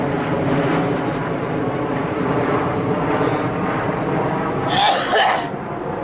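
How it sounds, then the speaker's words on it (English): An airplane passes overhead with a continuous broadband roar that holds steady throughout, with a brief cough-like sound near the end. "We should wait till the plane goes by."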